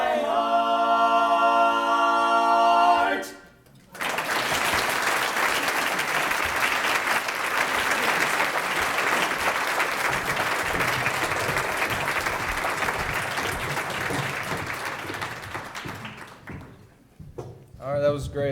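Audience applause at a school lunch event after a group sings: sustained, dense clapping from a large crowd lasting over ten seconds, following the tail of music and fading near the end.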